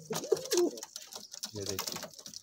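Golden pigeons coo in soft, close bursts for a couple of seconds at a bird sale in Amritsar, with faint background voices.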